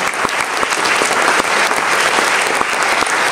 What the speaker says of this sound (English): could you give an applause to those people who support our work?